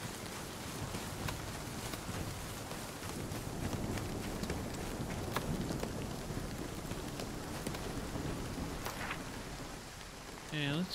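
Hail falls steadily in the video game Nightingale, a dense, continuous patter of pellets striking surfaces with scattered sharper impacts throughout, loud and close, with no voices.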